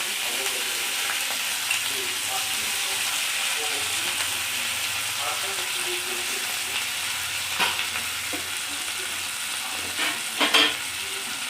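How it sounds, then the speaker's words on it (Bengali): Curry leaves and soaked chana dal fry in oil with a steady, close sizzle, broken by occasional scraping stirs and light pops, no voices. "ভালো করে কারি পাতাটা নেড়ে নিলাম।"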